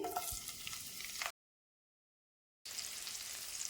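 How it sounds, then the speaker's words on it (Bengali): Half a spoon of cumin and two large chopped onions frying in hot oil give a faint, even crackling sizzle, broken by a short stretch of complete silence before the hiss resumes. "গরম তেলের উপর দিয়ে দিচ্ছি হাফ চামচ জিরা তারপর দিয়ে দিচ্ছি বড় সাইজের দুটো পেঁয়াজ কুচি"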